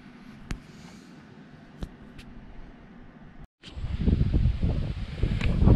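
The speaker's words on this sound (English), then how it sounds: "so it's really windy out here." Steady wind rushes across the microphone by a lake, gusting harder in the second half, with a few sharp clicks early on and no talking.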